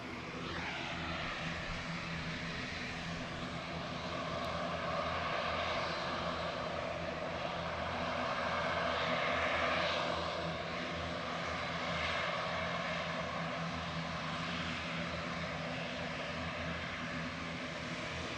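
An EasyJet Airbus A320neo lined up on the runway at Manchester Airport gives off a steady, distant engine roar that holds evenly throughout with a slight swell in the middle.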